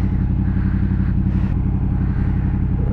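A dusty motorcycle rides through Bucharest city traffic, its engine a steady, close, rumbling drone that holds at an even level with little change in revs.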